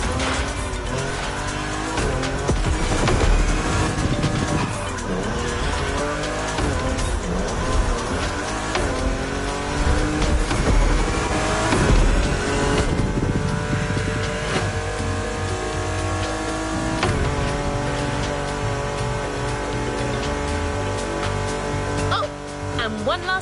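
Race cars duel along winding mountain roads in a video game, engines revving loudly and continuously with rising and falling gear changes, tires squealing and skidding through corners, backed by steady game music.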